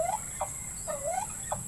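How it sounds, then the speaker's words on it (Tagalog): Several short warbling gobbles from a turkey, close by, over a steady high insect-like hum. "Tapos update din sa pabo natin."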